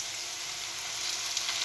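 Meat frying in a pan for potato dumplings, a dense continuous sizzle, steady and fairly close, with a slight rise in crackle toward the end.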